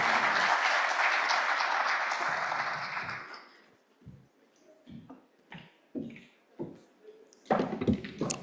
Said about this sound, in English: Let's give a warm round of applause for Mr.